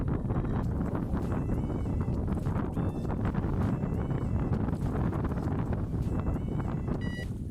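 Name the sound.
strong wind at a lake during a carp fishing session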